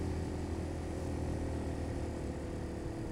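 A Sol Invictus Mercury cafe racer motorcycle labours up a hill, its engine a steady, dense drone mixed with wind rush, loud and continuous, with no speech.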